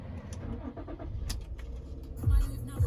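A 2009 car with a Sync navigation system starts up at a dealership, a steady engine rumble building with a louder surge near the end, close and alone.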